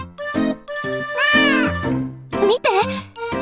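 Cats meow repeatedly and loudly in the D4DJ Groovy Mix video game, several close, drawn-out meows following one another in quick succession.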